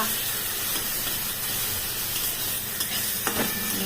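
Marinated bhetki fish sizzles in a hot pan with a steady, close frying hiss throughout, broken by a few faint scraping stirs.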